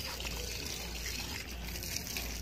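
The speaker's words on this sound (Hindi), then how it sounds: "जैसे मैंने डाला पानी तुरंत निकलने लगा" Water poured onto a potted plant runs straight through loose, porous soil and drains out, a steady continuous trickling and gushing close by with no talk.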